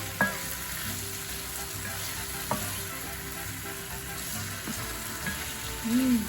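Jalapeño peppers fry with pork chops in a pan, a loud continuous sizzle broken by a few clinks and scraping strokes as the mix is stirred, with no one talking.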